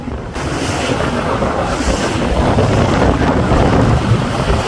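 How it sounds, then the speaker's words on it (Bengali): Strong wind buffets the microphone on the Meghna river as a passenger launch pushes against a hard current, a loud unbroken roar of gusts and water. "অনেক বাতাস এবং প্রচণ্ড স্রোতের বিপরীতে চলছে লঞ্চ"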